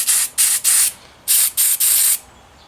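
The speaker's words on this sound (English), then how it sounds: "we're gonna take and spray him out real quick. Some brake cleaner, carb cleaner" Brake cleaner sprayed onto a Suzuki GS500F carburetor in six short bursts of hissing aerosol, three then three, close and loud with brief pauses between.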